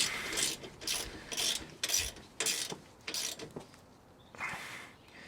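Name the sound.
ratchet tightening bolts on a Ford 7.25 rear end cover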